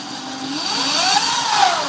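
A Razor RSF 650 electric bike rides fast with a loud, steady motor whine that climbs and falls in pitch as it accelerates, heard close and without any voices.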